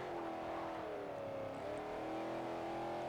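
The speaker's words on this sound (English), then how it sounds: "Because that V8 does sound pretty good." V8 car engine in the video game Forza Horizon holding a steady, humming rev with slight pitch drifts throughout, fairly quiet.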